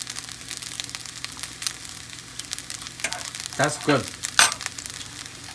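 Pulao being stirred and mixed in a hot pan, a steady sizzle of frying with scraping and stirring strokes growing louder near the end, while a voice speaks briefly.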